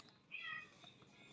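A cat meows once, a single drawn-out cry at moderate distance over a quiet room background, with no one speaking during it.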